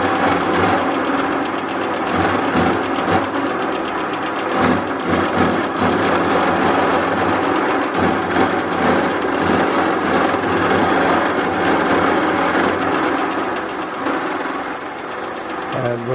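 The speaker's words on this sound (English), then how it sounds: "Fair bit of noise from the mill" Loud, continuous grinding and chattering of a milling machine cutting metal for a pump impeller nut socket, with a steady mechanical hum and occasional high-pitched squeals.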